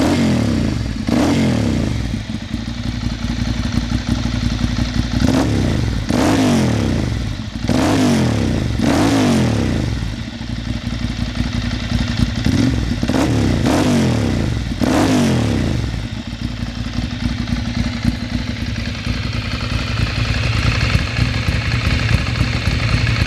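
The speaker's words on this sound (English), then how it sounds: "for a smaller capacity bike, sounds absolutely fantastic." Small-capacity motorcycle engine idling close by, with a steady low rumble broken by a series of quick throttle blips that rise and fall, then settling back to an even idle.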